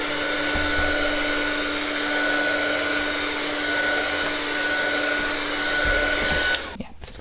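Hair dryer blowing steadily to dry a stained glass piece, a constant whining hum that cuts off abruptly near the end.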